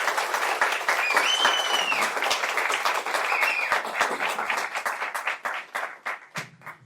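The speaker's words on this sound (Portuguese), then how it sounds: "E a salva de palmas é para você aí" An audience applauds at a career talk, the clapping loud and continuous with individual claps standing out near the end, a few whistles rising above it.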